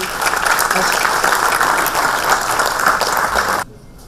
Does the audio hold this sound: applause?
yes